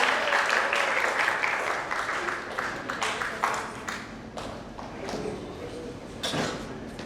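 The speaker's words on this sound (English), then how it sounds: "can we have a huge round of applause for Dr." Audience applause for a guest speaker at a university event, many hands clapping in a dense, uneven wash that gradually thins, with voices partly audible beneath.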